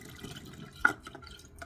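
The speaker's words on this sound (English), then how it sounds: "So we're just going to pour that in" Liquid trickles and drips as homemade organic vanilla bean extract is poured into a measuring cup, a faint, short splash with one brighter drop near the middle.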